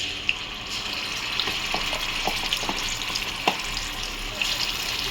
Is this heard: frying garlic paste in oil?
yes